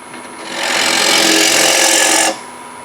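A power drill whirs into wood while wood slicing, a steady buzzing grind that ramps up, holds for under two seconds, then cuts off abruptly.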